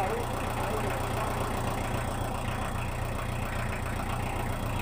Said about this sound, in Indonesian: Kita biarkan dulu untuk biar hangat dulu mesinnya, baru kita setting.